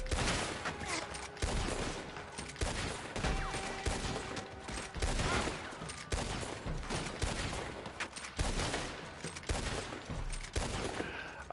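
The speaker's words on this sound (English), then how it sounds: "To the shooting gallery." Loud, rapid overlapping gunshots at a shooting gallery in the Red Dead Online video game, a sustained barrage of cracks with brief gaps, continuing throughout.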